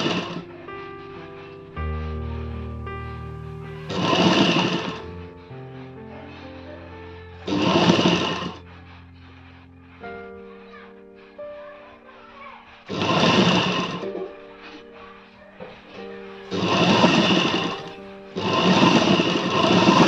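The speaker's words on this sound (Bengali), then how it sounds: "দেখুন, এই মাথা থেকে সেলাই করে করে করে করে এই মাথা পর্যন্ত আসবো।" A sewing machine stitches the belt of a bra-cut blouse in several loud, steady whirring runs separated by pauses, with a humming tone underneath the gaps.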